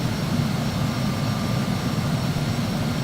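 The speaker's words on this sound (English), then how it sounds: "There's an airplane." An Embraer Phenom 300 business jet taxis in a flight simulator, its engines giving a steady, loud, low rumbling whine with a constant hum and no talk.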